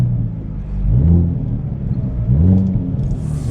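A 2023 Hyundai Elantra N engine automatically rev matching on downshifts: two close, loud throttle blips rising and falling over a steady low engine rumble, heard from inside the car.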